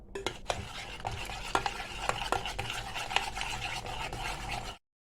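A spoon stirs a spoonful of flour and a spoonful of starch into milk, scraping and clinking against the bowl in quick, uneven strokes, close and fairly quiet, then stops abruptly.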